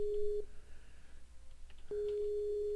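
An electronic telephone tone in the game Grand Fantasia sounds at moderate volume, a steady pulse lasting about half a second, pausing, then resuming for the last second, with faint background noise between.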